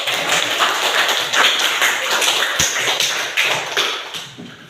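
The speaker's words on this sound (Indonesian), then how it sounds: "Kasih tepuk tangan dulu untuk." Students in a classroom clap together in a sustained burst of dense, loud applause that holds steady and then tapers slightly near the end.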